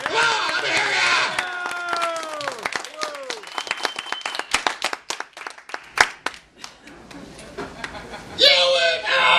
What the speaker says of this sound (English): How about a big round of applause for Steve Moser?